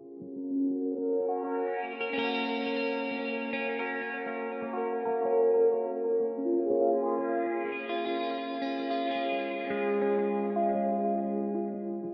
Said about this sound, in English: I recorded these guitar sparkles, or this idea of this slow tremolo type sound